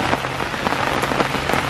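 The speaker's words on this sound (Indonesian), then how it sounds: "Cerita dia sekarang ni hujan." Steady rain pours down on a campsite at a freshwater fish sanctuary, a dense, close patter of drops hitting surfaces with scattered louder splashes and no voices.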